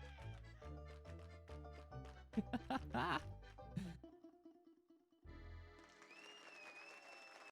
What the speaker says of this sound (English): Crowd's eating it up.